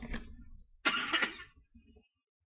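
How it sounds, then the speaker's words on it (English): A person coughs and clears their throat in two short bursts, close and fairly loud, followed by a quieter rasp, with no talking. "I don't know why I've had this cough."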